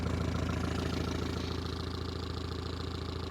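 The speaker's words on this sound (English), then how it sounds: "It's running, it's idling." An old 1973 Toyota Hilux pickup engine, long abandoned, idles close by with a steady, lumpy rhythmic chug and low rumble, no talking.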